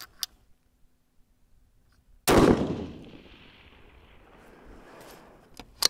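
A single loud, close blast from a 6mm Creedmoor Mausingfield rifle outdoors at a range, with a sharp onset and a long rolling echo that fades over a few seconds, followed by light clicks.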